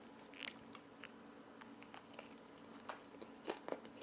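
Someone eats a Korean pizza topped with thick shrimp and broccoli. Quiet, close bites and chewing come as scattered soft crunches and crackles, a little stronger near the end, with no talk.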